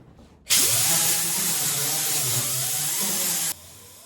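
An air-powered grinder runs on car body metal during a four-door Nova conversion, a steady loud high-pitched whine lasting about three seconds with a sharp start and stop, close by and alone.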